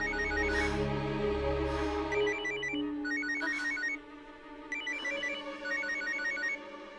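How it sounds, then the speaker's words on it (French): A telephone rings in bursts of electronic trills, several repeated ring patterns over about seven seconds at moderate level, with low background tones beneath. "il y a ton téléphone qui sonne"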